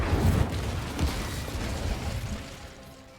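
The Incendio fire spell bursts out in Hogwarts Legacy with a loud whooshing, crackling blast that tails off into a softer rumble over a few seconds.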